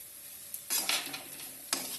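Spices, including chaat masala and garam masala, frying with potatoes in a pan, a quiet sizzle broken by two bursts of stirring, a scraping sweep and a shorter one near the end, with no talk.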